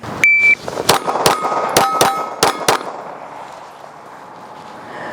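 Six rapid competition pistol shots crack out in quick pairs, each followed by a ringing metallic clang from steel targets, loud and close, with the echo fading into quiet afterward.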